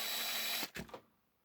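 A drill turning at very slow speed grinds out a brittle plastic rivet post on a Matchbox Super Kings K-18 articulated tanker, a quiet steady whir that stutters in a few short bursts and then stops.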